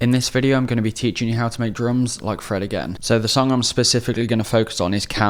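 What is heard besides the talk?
None of the usual background noises is heard.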